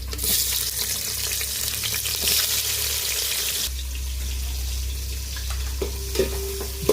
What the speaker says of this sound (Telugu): ఆయిల్ అయితే వేడింది కదా ఉల్లిపాయ పచ్చిమిర్చి వేసేసుకుందాం